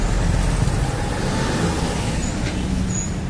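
Dense, steady roadway traffic recorded right at the curb, cars, buses and trucks rumbling past close by in a continuous loud wash, with a faint hiss of air brakes.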